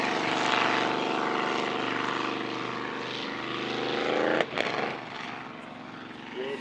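A race boat's engine drones loudly and steadily on the water at a powerboat racing event, then cuts out abruptly and sputters as it misfires and struggles to put the power on.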